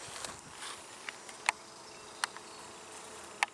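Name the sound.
honey bees and drones buzzing at a hive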